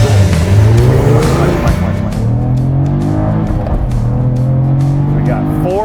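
Cadillac CT4-V Blackwing twin-turbo sedan of 472 horsepower launching in track mode, engine roaring loud and close as revs climb through quick gear shifts, with the pitch resetting after each change.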